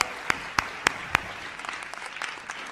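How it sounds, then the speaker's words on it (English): An audience claps at a Latin GRAMMY financial-education master class hosted at FIU, opening with a few loud, separate claps before a softer, steady patter of hands continues. "A big round of applause for FIU."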